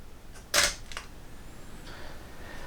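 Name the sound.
camera shutter taking a photo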